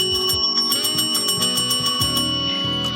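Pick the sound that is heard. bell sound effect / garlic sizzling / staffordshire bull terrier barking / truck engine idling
bell sound effect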